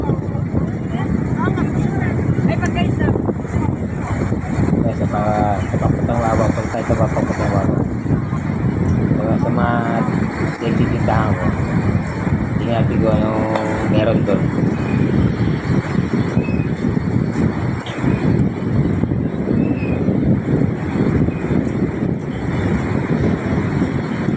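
Strong wind roars and buffets continuously against the microphone, loud and unbroken, with voices talking faintly underneath.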